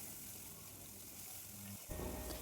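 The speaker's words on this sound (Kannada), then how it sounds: "ಆವಾಗ ನೀರು ಹಾಕ್ಕೊಬೇಕು" Water poured into a hot frying pan while cooking kushka, a sudden hissing gush that replaces the quieter sizzle of frying spices in the last half second.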